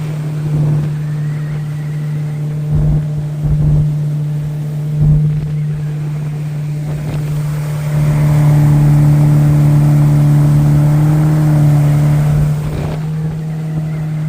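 A jet boat engine drones steadily at close range with a constant low hum, surging louder midway, with wind and water noise over it.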